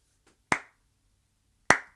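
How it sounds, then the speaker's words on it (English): Two sharp, dry clap drum samples hit about a second apart in a music production session, each a crisp isolated snap with a short decaying tail over near silence. "Clap is good."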